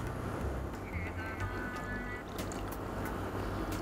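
Water is poured into a pot of simmering sambar with tamarind, giving a continuous close splashing and bubbling with small clinks of the pot.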